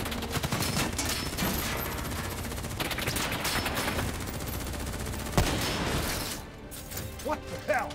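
Dense, continuous gunfire in the Call of Duty: Black Ops 3 mission In Darkness: sustained automatic bursts and crashes at close range, with a sharp report near the middle and voices calling out over the shooting.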